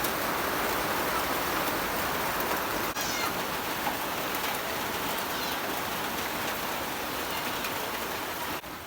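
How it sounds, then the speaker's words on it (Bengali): Steady rain falls outdoors on a rural farmstead, a dense even hiss of drops on surfaces holding constant for the whole stretch, with no voices heard. "হ্যালো বৃষ্টি দেখেন"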